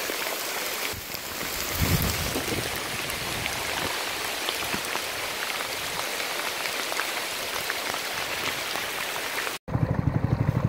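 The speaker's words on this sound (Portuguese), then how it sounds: "Esperar a chuva passar" Steady, heavy rain falls at a riverside community on Lake Amanã in the Amazonas rainforest, a dense, unbroken hiss that fills the scene before cutting off abruptly near the end, leaving a quieter, choppier sound.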